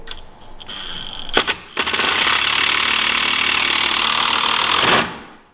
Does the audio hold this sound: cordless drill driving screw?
yes